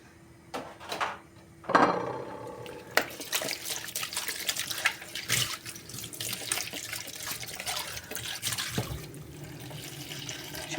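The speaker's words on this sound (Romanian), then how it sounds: "O să mai pun puțină apă" Tap water running into a pot in a home kitchen, a steady splashing stream that starts after a few brief clinks and bursts and continues close up and fairly loud.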